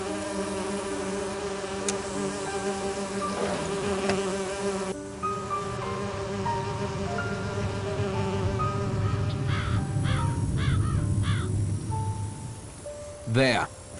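Bees buzz steadily in a video game scene set in the Agatha Christie mystery And Then There Were None, a continuous insect drone over background game music with a few short tonal chirps near the end.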